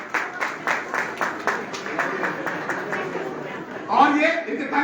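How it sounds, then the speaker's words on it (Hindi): A live audience claps loudly on request at a Hindi talk event, a rhythmic burst of applause that fills the room and swells again near the end. "जोरदार ताली बजा दो"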